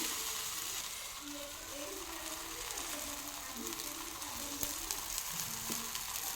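Garlic-leaf flatbread cooks on its second side in a pan over medium heat, a soft continuous sizzle with faint scraping, steady and close.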